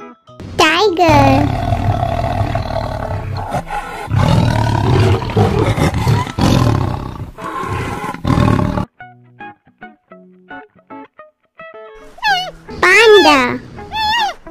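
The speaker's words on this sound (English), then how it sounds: "Tiger." A tiger roars loudly in deep, rumbling, sustained bursts over several seconds, followed by quieter sparse sounds and a voice near the end.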